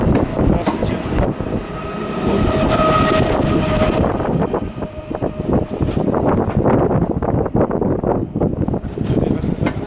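A train rolls past on a line at Szklarska Poręba, a steady rumbling roar with rattling and wind buffeting that carries through the whole stretch, while people talk over it.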